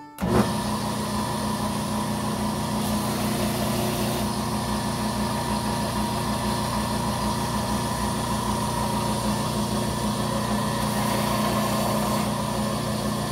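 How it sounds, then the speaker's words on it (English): A powered sander runs with a steady, even whine while a vintage Case knife's bolsters are fitted, droning continuously at close range after a quick start, with no speech. "Now I'll do my final fit on my sander here."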